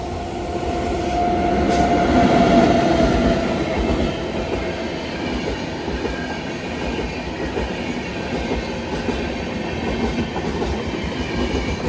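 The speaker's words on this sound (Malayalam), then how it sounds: "ഇതേ സമ്പർക്രാന്തി എക്സ്പ്രസ് വരികയാണ്." Sampark Kranti Express passing a small curved railway station on Munroe Island, a continuous rumbling roar of wheels and rolling carriages with rhythmic clatter, swelling near the start and staying steady and loud throughout.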